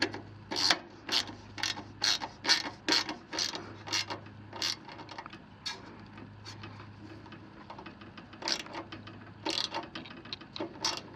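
A part on the carburetor of a 30-year-old Honda HS828 snowblower being tightened down, with rapid close ratcheting clicks in bursts and a pause in the middle.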